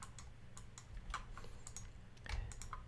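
Keys on a computer keyboard tapped for a command-backspace shortcut while editing a Unity level, a handful of light, separate clicks spread across the stretch over a low background hum.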